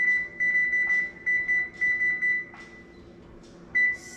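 An oven's control panel beeps while being set for baking wings, a string of short, sharp electronic tones in quick bursts, loud and close, then a pause before one final beep.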